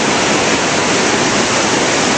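A rain-swollen creek roars in a steady, loud, dense rush of water, close by and unbroken, with no voices.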